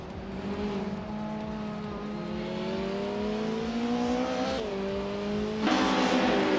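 Race cars in a racing video game roar past one another, overlapping engine tones climbing steadily in pitch as they accelerate, with a sharper surge near the end, loud and continuous.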